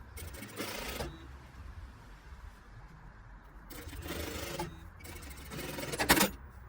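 A sewing machine stitches a back tack at the end of a seam on an angled side pocket, with three bursts of rapid mechanical stitching separated by quieter pauses, the last burst loudest.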